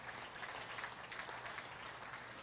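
Scattered applause from a crowd at a 4-H beef cattle show in Daviess County, honoring youth exhibitors; steady, moderately faint clapping throughout with no voices.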